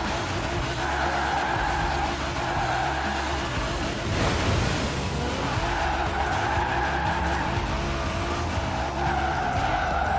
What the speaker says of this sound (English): This thing it just won't stop drifting